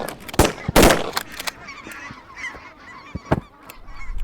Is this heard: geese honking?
yes